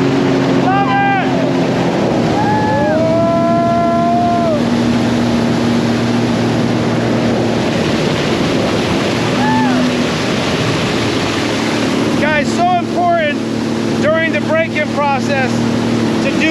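A 2022 Sea-Doo RXTX 300 personal watercraft rides across open water with a loud constant engine drone and wind rush throughout, while whoops and shouts from riders rise over it.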